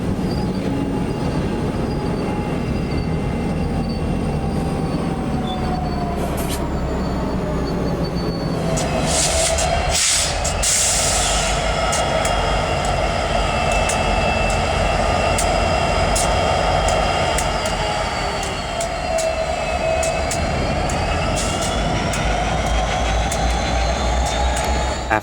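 A heavy Santa Fe freight train rolls into Empire, California, with a loud continuous rumble, wheels squealing and screeching in sharp bursts as the cars pass close by.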